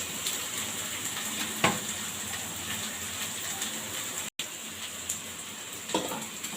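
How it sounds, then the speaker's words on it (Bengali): Spice mix sizzling in a pan while cooking prawn pulao, a steady close frying hiss throughout with a couple of brief sharper pops and one short dropout. "মশলাটা ভাজি হয়ে গেছে"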